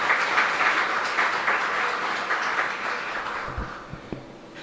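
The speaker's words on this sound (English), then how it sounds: "Please, a round of applause." Audience applause fills a presentation of a citrus tree inventory and orange crop estimate, a steady broad wash of many hands clapping that carries through and slowly thins toward the end.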